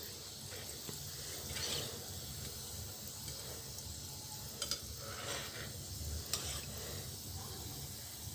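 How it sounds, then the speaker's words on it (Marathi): Wheat flour gulab jamun frying gently in oil over a low flame, a soft steady sizzle and bubbling that runs throughout at low volume, with a few faint clinks near the end and no speech. "एकदम मंद आचेवर याला तळायचं आहे, नाहीतर हे आतून पूर्णपणे कच्चे राहतील."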